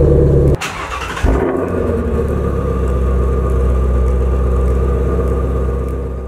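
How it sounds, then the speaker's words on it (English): A car engine cranks and catches after a custom tune is loaded from an SCT device, then settles into a steady, loud, close idle rumble. "you can now turn on your vehicle"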